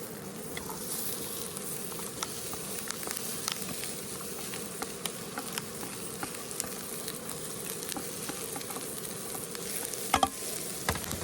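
Onions and peppers sizzle with chorizo in a paella pan while cooking outdoors at a campsite, a continuous crackling frying hiss with occasional sharper pops and stirring clicks, close and steady, with no voices.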